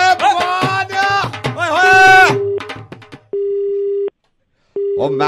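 Phone line beeping after a hung-up prank call, a steady loud electronic tone repeating in long even pulses with a gap between them, following a brief bleating burst of voices at the start.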